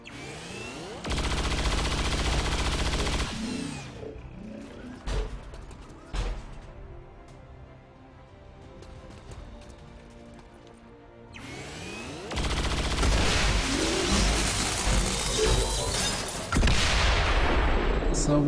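Chain-shot gunfire in the video game XCOM 2 comes as loud dense bursts of rapid shots, then a quieter lull with scattered sounds, then more sustained heavy firing.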